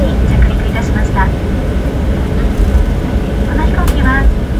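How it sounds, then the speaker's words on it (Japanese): Cabin of a JAL Boeing 737-800 just after landing at Tokyo Haneda, flying in from Oita: a loud, steady roar of engine and rolling noise fills the cabin while a cabin-crew announcement plays over it. "東京国際空港羽田に着陸いたしました。"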